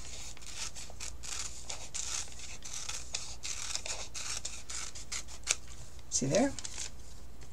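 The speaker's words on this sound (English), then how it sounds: "So we're going to fold it this way and cut it into a circle." Scissors snipping paper into a circle, a steady series of soft, close cuts and rustles with a brief crinkle of paper near the end, while someone speaks quietly.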